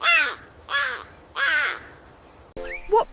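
A crow gives three loud, harsh caws in a steady rhythm, each call close and clear, followed by a brief rustling clatter and a shorter squawk at the end.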